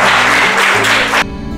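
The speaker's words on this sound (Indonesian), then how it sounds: "Nah, cukup, tepuk tangan lagi." Schoolchildren clap together in a classroom after a lesson, a dense burst of applause close and loud that stops abruptly after about a second.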